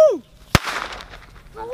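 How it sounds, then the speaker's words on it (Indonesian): A single sharp firecracker bang outdoors, close and loud, with a short crackling tail; brief voices are heard just before and after. "Oke guys, kita nyalakan mercon."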